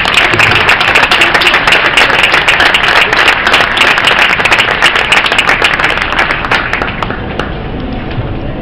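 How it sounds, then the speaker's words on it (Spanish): Loud, close applause from an audience at a magazine launch during a book fair, with dense clapping that continues steadily throughout and eases slightly toward the end. "Así que también un aplauso para ellos."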